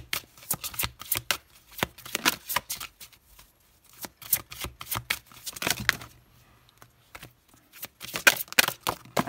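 Oracle des êtres d'ombre et de lumière oracle cards shuffled by hand close up, in repeated bursts of crisp riffling and sliding with short pauses between.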